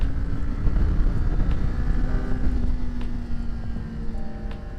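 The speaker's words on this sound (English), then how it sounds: "Feels good to be out in the canyon roads on the bike" Kawasaki Ninja 500 KRT motorcycle cruising on canyon roads, a steady engine drone with a held tone under heavy rushing wind noise, loud and continuous.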